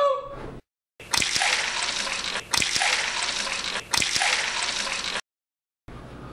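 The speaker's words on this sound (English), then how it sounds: "you're gonna fill these 3 glasses with 250 milliliters of water." Water is poured into three glasses in three separate bursts, each a loud, close, splashing pour lasting over a second, divided by brief pauses and framed by near silence.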